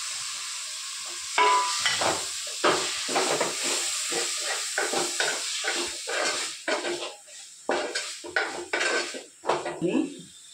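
Tomato frying in a pan for beerakaya curry, a steady hiss and sizzle beneath repeated clinks and scrapes of a metal spoon stirring against the pan.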